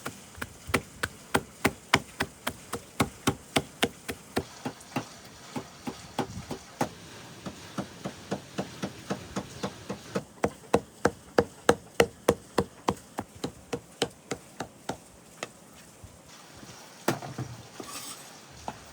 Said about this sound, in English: Now that I've minced the lamb tail